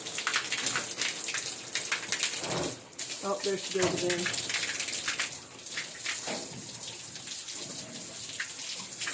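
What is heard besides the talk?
sow playing with water from the watering system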